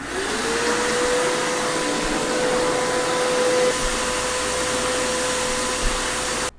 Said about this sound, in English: I want to test out this attachment with the brushes on it on the Hart shop vac and see if I can get this cleaned up